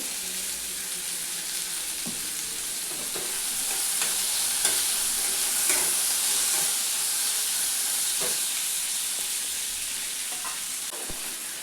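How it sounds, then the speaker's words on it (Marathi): Asafoetida hits hot oil in a pan with steamed green peas, giving a steady, loud sizzling hiss with a few soft stirring knocks and no talking. "परतवून घेतीये. थोडंसं हिंग टाकते याच्यामध्ये."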